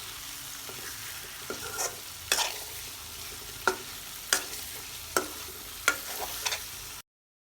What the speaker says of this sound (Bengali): মা এখন মশলাটা কষিয়ে নিচ্ছে